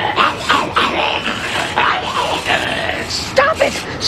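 A cartoon dog yips and whimpers in short, repeated bursts mixed with cartoon voices talking over the sound throughout.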